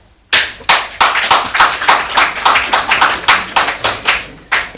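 Applause during a national budget speech in Ghana, a burst of many hands clapping loudly and close that starts abruptly and keeps a fast, fairly steady beat before thinning near the end.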